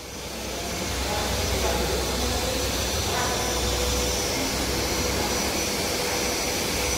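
A Mini 280 car engine running steadily with a broad, loud roar and hiss throughout, rising in the first second and then holding even.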